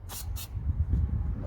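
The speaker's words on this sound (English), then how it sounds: "Put some brake cleaner on it." Brake cleaner sprays from an aerosol can onto a part of a 2016 Piaggio Medley 125 scooter in two short, hissing bursts close by, followed by a low background rumble.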